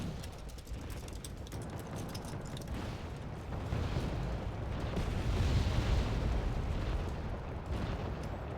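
Mortar rounds and explosions rumble across a Wargame Red Dragon battlefield, a continuous roll of distant blasts and artillery thuds that builds in intensity midway, without talk over it.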